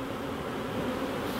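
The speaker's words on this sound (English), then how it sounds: "So they are bees that are Texas bees raised by the colonies themselves." Texas honey bees raised by their own colonies hum in a dense, continuous buzz, steady and close, with no voices over it.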